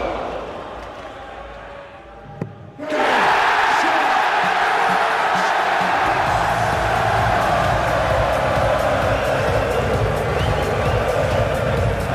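A full crowd cheering at a darts event on the African Continental Tour: after a quiet start with one sharp knock, a loud roar of cheering and whooping bursts out and holds steady, with a commentator talking over it.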